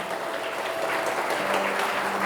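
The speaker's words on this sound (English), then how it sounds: "I request everybody to give a big round of applause, please" A school annual day audience gives a big round of applause, dense steady clapping from many hands filling the hall at an even, sustained level throughout.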